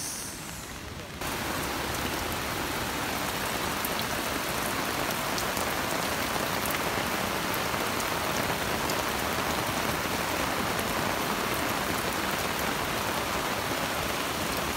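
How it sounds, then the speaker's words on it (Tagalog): Heavy rain pours down in a dense, constant roar, loud and unbroken after a brief quieter moment at the start. "Grabe yung ulan."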